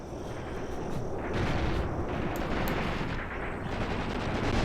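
An Il-2 Shturmovik airstrike in Graviteam Tactics, a continuous roar of rattling gunfire and heavy blasts pounding the ground, loud and sustained with no one speaking.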